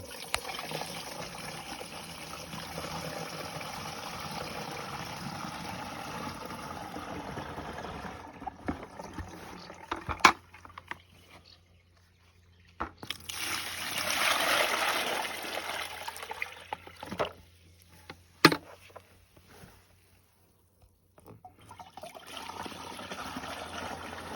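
Liquid fruit-tree spray solution for apple and peach trees is poured out, a trickling, splashing pour that swells for a few seconds amid quieter handling noises and brief knocks, close and moderately loud.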